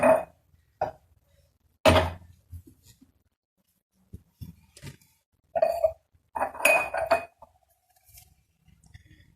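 Glass bottles meant for honey clink and knock against each other in separate short bursts with quiet pauses between them, close and clear, while someone speaks faintly in between.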